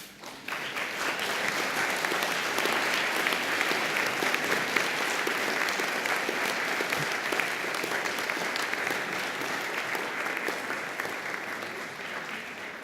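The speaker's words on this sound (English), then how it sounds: "And now please thank your family and friends by clapping." Sustained applause from a large crowd of graduates facing their family and friends at a 2012 UNSW graduation ceremony in Sydney, dense steady clapping for about twelve seconds before tapering slightly.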